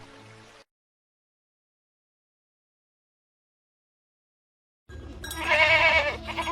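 Goats and sheep bleat in a cartoon after a stretch of silence, a short burst at the start and then louder, close bleating with harmonic cries near the end.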